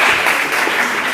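Audience applause after a speaker at a Spanish-language health conference asks the room to clap for panel guests, a steady dense patter of many hands sustained throughout at moderate loudness.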